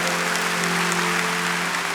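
Church congregation applauding at the opening of a rooftop church site in Surabaya, a dense steady wash of clapping that fills the whole moment at an even level, with a faint electrical hum underneath.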